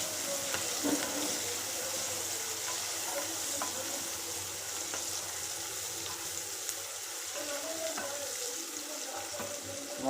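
Three handfuls of small onions (shallots) sautéing in a pan for a bitter gourd tamarind curry, a steady, fairly quiet sizzling hiss with occasional faint stirring clicks.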